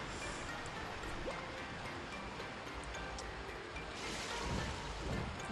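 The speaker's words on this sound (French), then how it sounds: "la cascade m'énerve un peu" A small waterfall in the Ôkami video game, a steady hissing rush of falling water that fills the background evenly and swells slightly toward the end.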